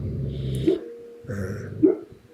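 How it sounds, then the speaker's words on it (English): Dogs bark twice at close range, each bark sharp and loud, with a steady low hum beneath and brief quiet between. "You agree, my dogs agree."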